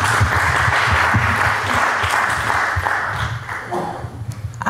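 Audience applause at the Citizens for Vallejo candidates forum in 2011: dense, steady clapping from a seated crowd that fills the room, easing slightly toward the end with no talking.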